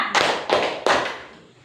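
Three sharp, loud claps in a steady rhythm, each ringing briefly before the next, with no talking.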